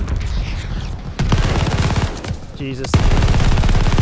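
Gunfire from a freshly picked-up gun in Call of Duty Vanguard on PS5, a loud stretch of rapid shots over the game's noise, with a voice exclaiming partway through.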